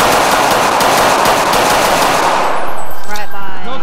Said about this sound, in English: We have more shots.